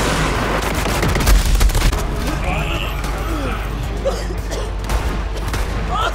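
Rapid turret gunfire in Borderlands 3 rattles continuously through a chaotic firefight, with dense bursts and booms layered over other battle noise and a player talking over it.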